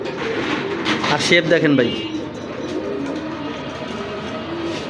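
A pair of racing and flying pigeons coo softly in low murmurs while someone talks over them close by.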